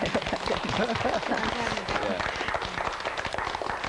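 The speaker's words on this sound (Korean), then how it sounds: "우리 응원과 격려의 박수 한번 해주십시오." Steady applause of encouragement from an audience at a Korean event honouring a low-vision advocate, dense and continuous throughout with a close, full sound.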